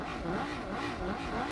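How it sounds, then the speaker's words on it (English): A race car engine in the Rennsport racing game revs loudly and steadily for over a second, the pitch rising and falling, then cuts off abruptly. "So, this is how the car sounds."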